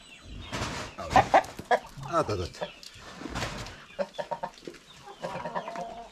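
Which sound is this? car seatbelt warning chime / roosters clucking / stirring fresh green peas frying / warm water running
roosters clucking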